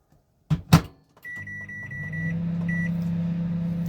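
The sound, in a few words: microwave oven running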